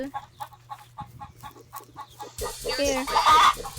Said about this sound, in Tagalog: Stay away from me, chicken.